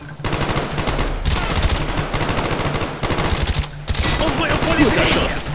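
Rapid bursts of automatic gunfire from Call of Duty: Black Ops rattle in quick succession, with brief gaps and scattered distant shots.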